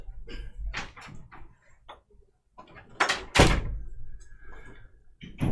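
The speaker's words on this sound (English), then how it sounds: "Close the door, please, Thomas." A door shuts at a card game tournament with a sharp, loud clunk and rattle, amid scattered knocks and bumps in a quiet room.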